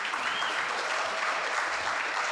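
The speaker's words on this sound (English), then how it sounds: "that's in and of itself worth a round of applause" Applause for a team hitting 100% retention two months in a row at a company all-hands update: a dense, steady wash of clapping from a group, sustained and even throughout without any talking.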